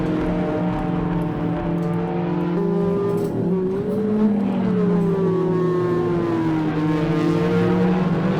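Ferrari 360 V8 revving high through its power band on the Nürburgring Nordschleife, a loud, sustained engine note climbing and falling steadily through gear changes with no pauses, heard close from onboard.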